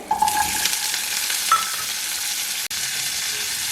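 Small onions and curry leaves fry in hot oil for rice rava upma, a steady bright sizzle filling the clip while a spoon stirs through it, with a sharp click near the end.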